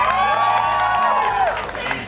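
Studio audience at a live comedy podcast taping cheers loudly for a critical hit dice roll in a tabletop role-playing game, a dense, steady wall of whoops and shouts with a sustained raised voice riding over it, easing off slightly at the end.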